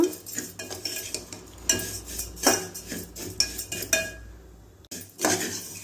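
A utensil scrapes and clinks against a pan as vermicelli roasts for payasam, with irregular stirring strokes, sharp metallic taps and short pauses, close up with no talking.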